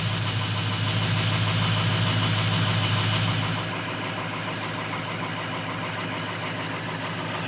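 A 2004 Ford F350 with the 6.0 diesel idles cold, loud and close, its steady knocking clatter running continuously and easing to a slightly quieter idle partway through.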